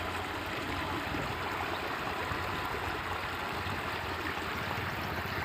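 A small river flowing near a temple site, a steady broadband rush of moving water heard continuously and fairly close, with no voices.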